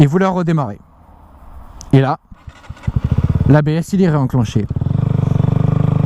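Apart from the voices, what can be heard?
KTM Duke 125 motorcycle engine restarting and idling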